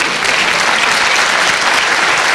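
Audience applause at a business forum breakfast and expo: dense, loud, continuous clapping from a large crowd, with no voices standing out.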